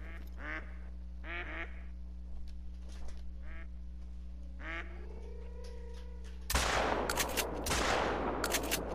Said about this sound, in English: And I think I have some more ducks coming in